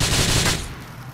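Gunfire in the video game GTA 4 rattles out as a quick, loud burst of shots that cuts off after about half a second, leaving a fading tail.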